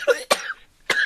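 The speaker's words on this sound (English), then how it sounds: "I need to stop coughing" Three short, sharp coughs in quick succession from one person sitting nearby, loud and close with brief gaps between them and no talking.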